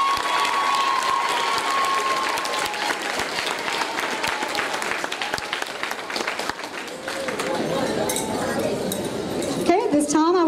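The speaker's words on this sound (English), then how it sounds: "A round of applause, please." Audience applause fills a middle school eighth grade recognition ceremony, a steady broadband clatter that thins toward the end as a few voices and clinks come through.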